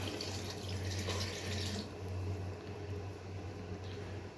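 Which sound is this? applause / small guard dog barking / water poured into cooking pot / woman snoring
water poured into cooking pot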